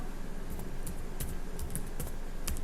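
Computer keyboard keys tapped in short bursts while a terminal command is entered, close and clear over a steady background hiss, with no talking.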